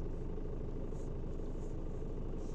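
A Mini's engine idles steadily during a diagnostic check, a continuous low rumble and vibration close by with no talk over it.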